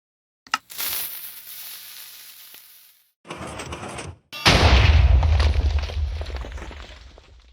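Minecraft-style TNT dropped from dispensers onto an anvil goes off in a loud blast: a brief clatter and hiss, a short gap, then a heavy booming explosion with a low rumble that slowly fades, with no talking.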